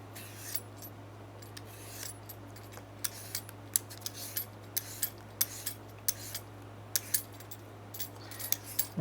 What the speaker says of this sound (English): I'm gonna peel it nicely